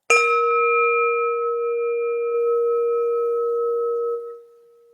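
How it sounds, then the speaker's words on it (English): A single bell is struck once and rings out with a clear, sustained tone that hangs steadily for about four seconds before fading. "connect with your breath with the sound of the bell"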